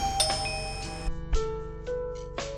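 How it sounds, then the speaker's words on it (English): A wireless doorbell chime rings after the visit button on a Kamep J4 doorbell camera is pressed, a bright electronic tone followed by a few shorter repeated ding notes, clear and close with no talk. "Press the doorbell's visit button."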